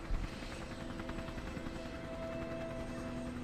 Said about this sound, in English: So there was a helicopter hovering very,